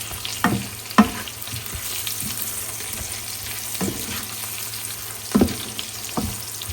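Pumpkin pieces and onions frying in hot oil, a steady close sizzle broken by several sharp scraping stirs of a spatula, with no talk.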